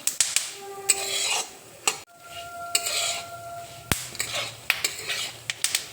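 Sesame seeds go into a pan and get stirred with a metal spoon for a healthy dry-fruit laddu, repeated sharp scrapes and clinks against the pan over a soft sizzle, with no talk.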